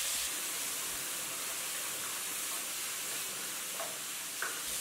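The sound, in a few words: stir-frying tomato chunks in oil with garlic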